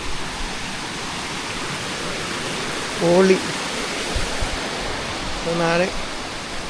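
Water rushing along a stream in Kasaragod makes a steady, broad hiss throughout, with a voice speaking briefly over it twice.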